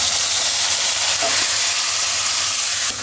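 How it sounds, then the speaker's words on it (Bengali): Goat meat dropped into hot oil over fried onions gives a steady, loud hiss and sizzle throughout, close by, with no talk over it. "এদিকে তেলের উপরে পেঁয়াজ ভেজে এই যে খাসির মাংসটা দিয়ে দিলাম"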